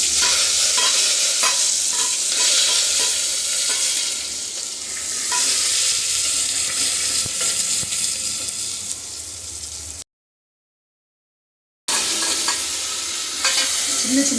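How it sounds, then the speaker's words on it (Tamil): Onion and curry leaves sizzle and crackle loudly in hot tempering oil with mustard seeds, urad dal and fenugreek while being stirred, a steady frying hiss broken by a brief silent gap before the stirring and sizzling resume. "இப்போ வெங்காயமும் கருவேப்பிலையும் போட்டு தாளிச்சுக்கிடுவோம்."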